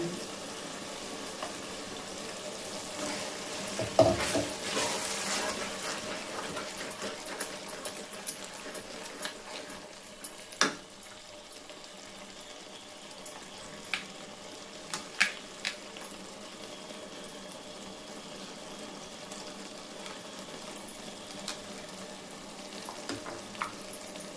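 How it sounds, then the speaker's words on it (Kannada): Khichdi frying in oil in a pan, a steady soft sizzle running through the whole stretch with occasional stirring clinks and scrapes, close and fairly quiet, no talk. "ಅದು ಫ್ರೈ ಆಗಿ ಎಲ್ಲ ಎಣ್ಣೆ ಬಿಟ್ಕೊಂಡಿದೆ"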